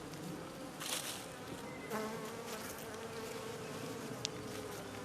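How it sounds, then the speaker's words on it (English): Honey bee buzzing close inside a beekeeper's veil, a steady near drone around newly installed package bees, continuous and fairly loud with brief swells as it moves about. "This bee is inside my veil."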